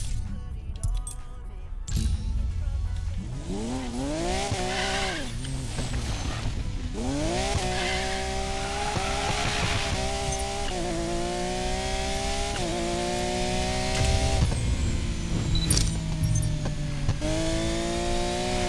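A high-revving Lamborghini Aventador engine in Need for Speed Payback roars steadily, pitch sweeping up and down through repeated gear changes, loud and continuous.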